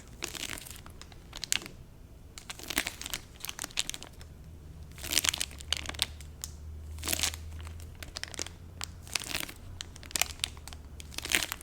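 Crinkly, sticky library-bound book covers handled up close in repeated short crackling bursts and rustles, soft and intimate with quiet pauses between, no talking.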